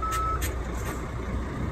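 A truck's reversing alarm sounds a single steady high beep at the start, then falls away into a constant engine rumble and background noise.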